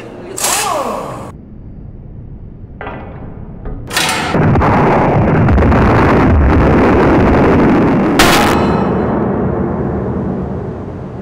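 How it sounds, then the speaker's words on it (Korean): A huge explosion from an industrial tank accident bursts out with a sharp blast, then a heavy, sustained roar and rumble that lingers for several seconds, with further sharp cracks cutting through. "거대한 폭발 소리에 동료 유성룡은 몸을 수그리고 피했다"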